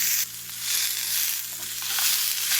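Onions fry in oil in a pan with a bright, close, continuous sizzle that swells and eases slightly in waves, with no voices over it.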